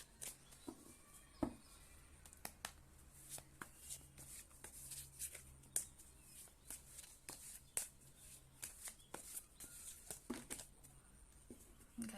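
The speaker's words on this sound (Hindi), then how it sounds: "मैं तब तक कार्ड शफल कर लेती हूँ." Tarot cards being shuffled by hand, a quiet run of soft riffling flicks and taps repeating at an uneven pace, close and alone.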